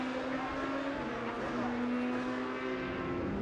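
Race cars from the 2014 Asian Le Mans Series at Shanghai pass down the long back straight, a steady loud engine roar with a sustained droning tone throughout, broadcast commentary faintly under it.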